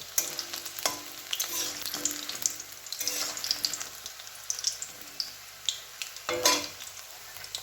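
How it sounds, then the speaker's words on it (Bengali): Steady crackling sizzle of mushrooms frying in hot oil for chilli mushroom, continuous throughout with occasional sharper pops and spatters, close and moderately loud. "চিলি চিকেনের মতনই একই নিয়মে একে একে আমি এইভাবে ভেজে নেবো তেলে"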